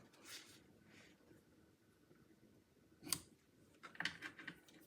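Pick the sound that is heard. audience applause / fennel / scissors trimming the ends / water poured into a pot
scissors trimming the ends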